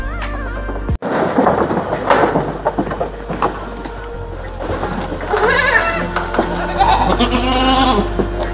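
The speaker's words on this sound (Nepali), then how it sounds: "यो चाहिँ हाम्रो बाख्राकोट बाख्राहरू छ है" Goats in a village goat shed bleat several times, with a couple of drawn-out, wavering cries standing out clearly over low background noise after a sharp knock near the start.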